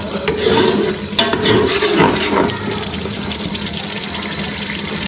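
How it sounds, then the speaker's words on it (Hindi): Water splashes into a hot pan of frying masala cauliflower, bringing a burst of hissing, bubbling sizzle and stirring scrapes that settle into a steadier simmer, close and loud, with no voices. "हल्का हल्का पानी डालते जाएंगे और इसको भूनते जाएंगे"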